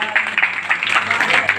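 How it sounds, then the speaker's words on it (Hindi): An audience at a school poetry-recitation gathering at a Navodaya school in Surajpur claps in steady applause, a dense crackle of many hands rising and falling, fairly loud and close. "इन चारों का तालियों से अभिनंदन करें।"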